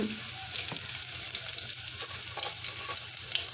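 A small piece of garlic sizzles in hot oil, a steady close frying crackle with faint popping and no talk.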